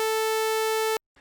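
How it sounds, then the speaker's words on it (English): A sawtooth oscillator programmed in ChucK holds one steady, buzzy tone with a dense stack of bright harmonics for about a second, then cuts off abruptly into near silence. "and a Sawtooth oscillator sounds like this."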